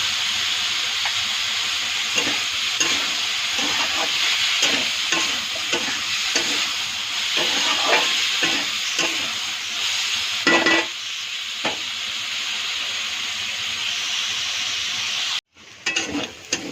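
Potatoes fry loudly in a pan while being stirred, with a steady hiss broken by rhythmic scraping strokes, before the sizzle cuts out abruptly near the end; no one speaks.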